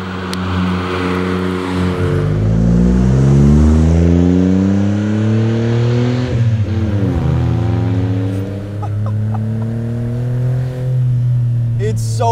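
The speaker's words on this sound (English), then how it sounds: "And then of course it revs all the way to 9." The small engine of an Autozam AZ-1 kei car revs hard and high, climbing in pitch, dropping briefly and climbing again, with loud, close engine harmonics.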